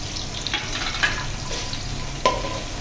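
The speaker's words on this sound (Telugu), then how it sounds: "ఆనియన్స్ కొంచెం ఫ్రై అయినాయి కాబట్టి నెక్స్ట్ ఇందులో పచ్చిమిర్చి" Onions and green chillies fry in a pan for egg biryani, giving a soft steady sizzle with a few light clinks of a spoon stirring against the pan.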